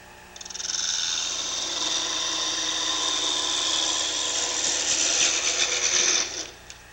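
A parting tool ground from a commercial hacksaw blade cuts into wood on a lathe while a hollow ornament is turned, giving a steady, close scraping hiss that holds for about six seconds with a rougher chatter near the end.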